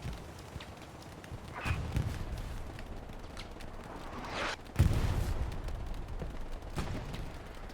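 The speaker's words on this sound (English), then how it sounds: "Artillery now coming down on top of this medium Sherman." Artillery shells landing around a medium Sherman tank in a Foy night battle video game, several dull booming impacts spaced a few seconds apart over continuous background battle noise, the loudest strike near the middle.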